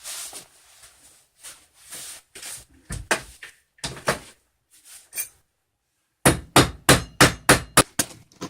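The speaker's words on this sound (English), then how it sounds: "I'm going to adjust this on the vise. I'm just going to pound it flat." A piece of an Suzuki SX4 roof rail is pounded flat on a vise: sharp metallic hammer blows, scattered and uneven at first, then a fast regular burst of about seven close, loud strikes after a brief pause.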